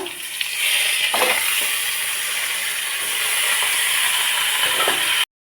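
Chicken pieces hitting hot oil with frying potatoes, a steady loud sizzle and hiss that carries on evenly for several seconds before cutting off abruptly.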